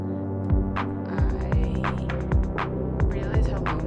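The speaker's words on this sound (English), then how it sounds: "Get less volume of the low drone thing" A low synth drone from a Polyend Tracker Mini hums with a deep throbbing pulse that repeats about every half second, with a higher tone held over it and heavy reverb.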